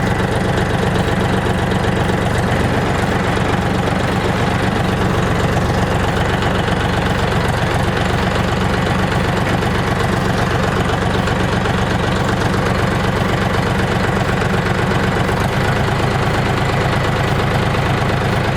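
A DTZ 354U tractor runs in low gear in reverse, its engine a loud, continuous close-up rumble with a rhythmic knocking idle beat and no talk over it.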